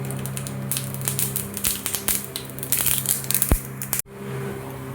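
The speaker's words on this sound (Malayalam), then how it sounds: "അതിലേക്ക് നമുക്ക് കടുക് ചേർത്ത് കൊടുക്കാം." Mustard seeds sputter and crackle in hot oil, dense rapid pops close by for about four seconds before the sizzle suddenly drops away to a low hiss.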